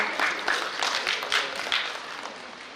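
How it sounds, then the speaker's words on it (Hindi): A short burst of audience applause at a stage cultural programme, moderately loud, with overlapping claps that gradually fade toward the end. "जोरदार तालियां हो जाए आप सभी के लिए।"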